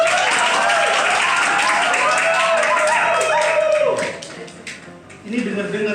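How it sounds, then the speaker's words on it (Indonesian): Audience at a live talk show on campus claps steadily and loudly for about four seconds before the applause thins and drops. A few scattered claps and murmurs are left at the end. "Oke, tepuk tangan dulu"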